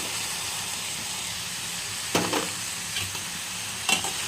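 Bitter gourd frying in oil for a Karnataka-style palya, with a steady close sizzle broken by a few sharp stirring scrapes and clatters near the middle and end; no voices.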